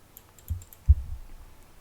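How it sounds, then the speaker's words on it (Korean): Two quick clicks of a computer mouse, a soft tap then a slightly louder one a moment later, close and isolated against near silence while working in Photoshop 2023. "더블 클릭."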